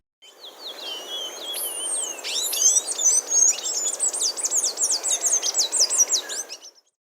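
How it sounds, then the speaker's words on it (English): A palm tanager calling alone, a clear, busy series of high chirps and twittering notes that builds into a rapid, steady run of sharp tweets before stopping abruptly. "Palm tanager."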